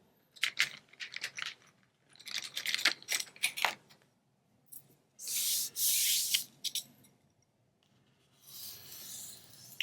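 A bone folder scrapes and rubs along folded paper while an envelope is made, giving scratchy, uneven strokes that are close and fairly quiet, then longer, smoother, hissing passes.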